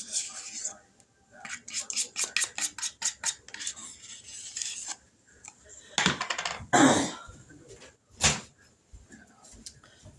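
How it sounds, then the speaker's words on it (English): A spoon clinks and scrapes rhythmically against a bowl while cinnamon roll icing is stirred, quick repeated taps followed by a few louder knocks and scrapes; a voice speaks in between. "Now let's mix this up"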